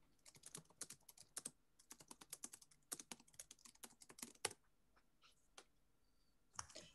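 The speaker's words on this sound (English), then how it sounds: "He's typing." Someone types on a computer keyboard in quick, irregular bursts of close, crisp key clicks, pausing briefly between runs, with a final flurry at the end; the clicks are quiet and heard alone.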